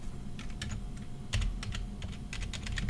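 Rapid, uneven keystrokes on a computer keyboard while C++ code is entered, a steady close patter of clicks with a slightly louder burst midway, and no voices.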